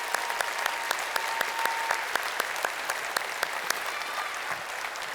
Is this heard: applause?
yes